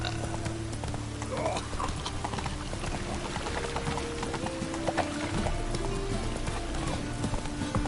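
Roach, the horse in The Witcher 3, gallops with steady, dense hoofbeats under game music and ambient sound, the hooves fairly close but partly buried in the mix.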